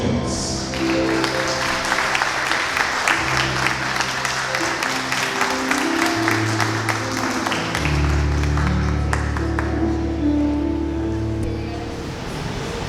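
Warm audience applause at a book launch, a dense continuous clapping from a sizeable crowd that stays loud and steady, with low murmurs and a faint voice underneath.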